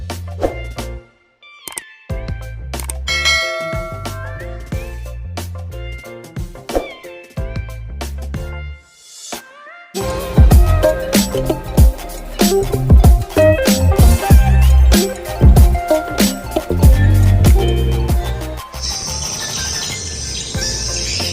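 Dense electronic chirps and twittering swiftlet lure calls from speakers in a swiftlet bird house repeat in rapid overlapping patterns, loud and close, with a brief pause before the calls return even denser.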